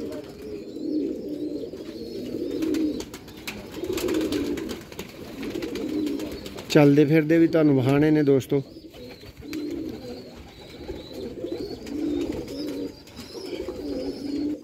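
Sialkoti Chuhe pigeons, blue-eyed birds kept on a rooftop, give one loud rolling coo of about two seconds, while someone talks before and after it.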